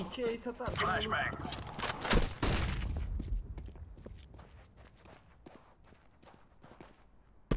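Counter-Strike: Global Offensive gunfire, a dense burst of rapid shots up front that fades into scattered footsteps and softer in-game clatter, fairly quiet overall.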